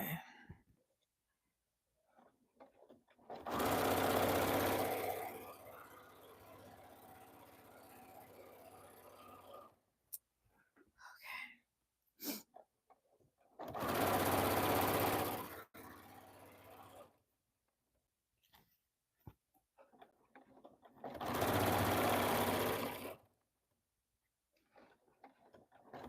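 A sewing machine stitches a denim corset dress in three separate bursts of steady whirring several seconds long, with quiet handling clicks in the pauses between them.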